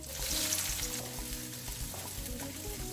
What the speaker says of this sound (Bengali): এখন আমি এতে দিয়ে দিচ্ছি পেঁয়াজ কুচি